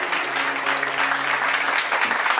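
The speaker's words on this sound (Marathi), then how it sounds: "टाळी वाजवा ना एकदा." An audience at a Shiva Mahapuran katha recitation claps in steady, dense applause that continues throughout at moderate loudness, without any speech over it.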